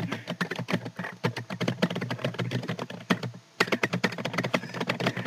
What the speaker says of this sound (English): Enjoy the sound of me typing during a blooper.